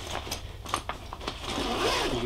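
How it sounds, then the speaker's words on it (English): Zippers on an Eagle Creek Tandem Warrior duffel bag being pulled open: several quick rasping zips in short bursts, then a longer continuous zip close up, with no talk. "And you pull these zippers"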